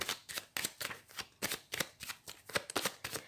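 A tarot card deck is riffled and cut in rapid, close bursts of papery flapping and slaps, a busy rhythmic shuffle filling the whole stretch without speech.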